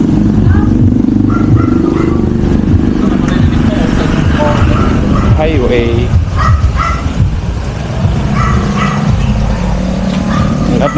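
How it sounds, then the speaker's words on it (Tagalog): Motorcycles pass on a highway with a loud, steady engine roar. A voice talks over it and a dog barks intermittently. "Lahat ng ano dito may motor."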